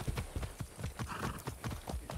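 Horse hooves beat in a fast galloping rhythm in the video game Far Cry 6, close and steady with a brief higher sound midway and no speech.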